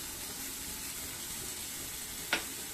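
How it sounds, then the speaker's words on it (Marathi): Cumin seeds crackle into hot oil in a pan for shahi matar paneer, a steady even sizzle with one sharp crackling burst near the end. "आपण थोडेसे त्याच्यामध्ये जिरे घालणार आहोत।"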